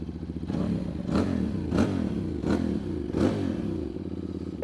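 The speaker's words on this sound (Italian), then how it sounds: "ascoltando quello che è il rombo particolare di questo bicilindrico a 180 gradi" A QJ Motor SRT550SX 180-degree parallel-twin engine idling nearby with a steady uneven thrum, punctuated by a few regular sharper clattering pulses.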